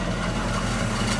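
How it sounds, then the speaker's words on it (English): Truck engine idling steadily after body work, a low, even rumble with a constant drone, close and alone with no voices. "Alright, she's idling happily now."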